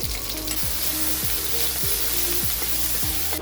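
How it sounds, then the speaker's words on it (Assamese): Onion and ginger-garlic paste frying in a pan for an Assamese arum root and potato curry, a loud, continuous sizzle broken by regular stirring strokes. "পিঁয়াজ আৰু আদা নহৰু পেষ্ট দি দিম"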